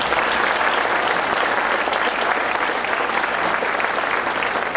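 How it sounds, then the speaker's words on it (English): Loud, steady applause from a large audience at a high school senior awards night, sustained without a break and with no voices standing out. "Let's give them a round of applause."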